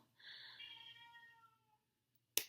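A cat meows once in a long, drawn-out, complaining cry while demanding a different food flavor, close and fairly loud, followed by a short silence and a sudden sharp knock or clatter at the end.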